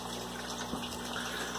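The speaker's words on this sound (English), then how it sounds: "Got the pump sucking in water over there." A small water pump in a DIY aquaponics aquarium test tank sucks in water, making a steady low hum under a constant trickling gush, close and faint, with no talking.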